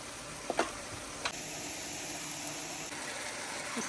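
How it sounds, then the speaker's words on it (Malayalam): Turmeric powder hits a hot pan and sets off a steady broadband sizzle, with a few small crackles near the start and no talking. "മഞ്ഞൾപ്പൊടി ഇട്ടു."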